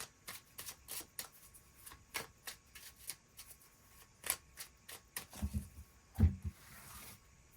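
Tarot cards being shuffled and drawn for a love reading: a run of crisp, papery riffles and soft slaps, close and fairly quiet, with a few sharper snaps near the end and no talking.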